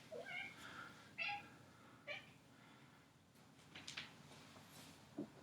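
Cats meowing indoors during a quiet beginner hatha yoga session, several short, soft meows spaced a second or so apart over a faint room hush, fairly close but gentle.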